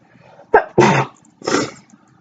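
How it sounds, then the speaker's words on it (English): A person sneezes: a short sharp intake, then two forceful, close, loud sneeze bursts with quiet gaps between, no other talking. "One more sneeze."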